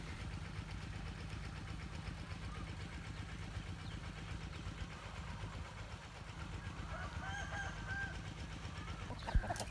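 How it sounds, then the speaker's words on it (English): Roosters crow and cluck near rice fields in Phitsanulok, Thailand, over a steady low engine-like hum, with a brief sharp knock near the end. "These roosters are pretty interesting."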